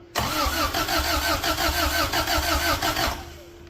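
A car engine cold-starts with a brief crank, then fires up into a loud, lumpy, rough idle that runs steadily for about three seconds before easing off, recorded close and with no voices.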